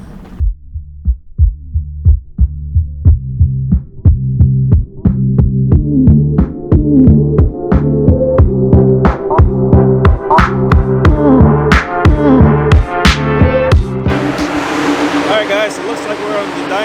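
Infiniti Q60 3.0T twin-turbo V6, tuned to about 500 wheel horsepower and running on E85, pulls hard on a dyno, its exhaust note climbing steadily in pitch over many seconds before easing off into a wash of turbo hiss and blow-off noise.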